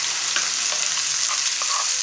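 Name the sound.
tomato chutney ingredients frying in a pan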